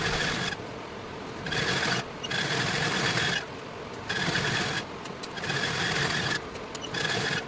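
A domestic sewing machine stitches kurta lining in loud, close bursts of a few seconds each, its motor whirring in an even rattle and stopping briefly between runs.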